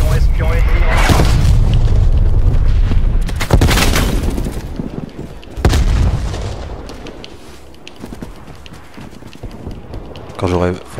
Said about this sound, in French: Frappe d'artillerie en approche.